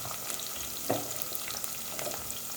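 Onions and ginger-garlic paste frying in a pan for palak rice bath, a steady close sizzle with occasional stir scrapes and small crackles throughout, no talking.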